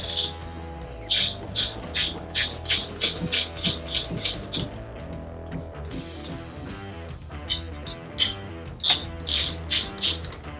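A bicycle wheel with dual pivot brakes comes out of the fork, its freehub ratchet ticking in regular rapid bursts as it spins, with a pause between two runs of clicking.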